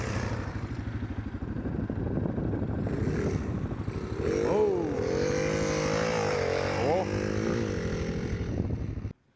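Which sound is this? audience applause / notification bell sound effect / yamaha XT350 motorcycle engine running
yamaha XT350 motorcycle engine running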